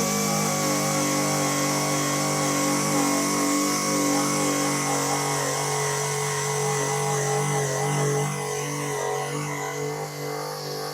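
Sunex Surface Blaster abrasive tool run at about 4,000 RPM stripping rust and paint, giving a steady, loud, high-pitched whine with a constant grinding hiss that holds evenly for the whole stretch without pauses.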